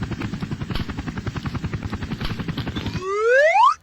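A helicopter in a Roblox game chops with a steady rapid rotor pulse, then a rising whine sweeps upward before cutting off abruptly, loud and alone.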